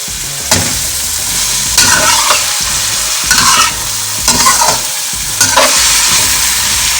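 Vegetables and chili sauce frying in a pan for a sabzi pulao, a steady loud sizzle broken by about four bursts of scraping stirring, with no talk.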